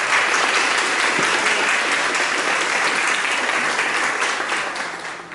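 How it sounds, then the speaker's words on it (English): Steady, dense applause from an audience at a women's health event, filling the whole stretch and fading slightly near the end, with no talking over it. "I'd like to give her a round of applause."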